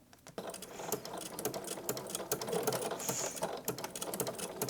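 A sewing machine fitted with a ruffler gathering foot stitching pleats, a fast continuous mechanical chatter of needle strikes close up, starting abruptly and running steadily without any speech.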